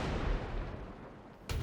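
Howitzer artillery fires with a heavy, rumbling blast that rolls and slowly fades, followed by a sharp new burst of noise near the end.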